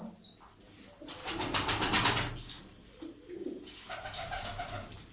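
Several birds calling outdoors, a dense run of cooing and chirping that swells in the middle and returns more softly near the end.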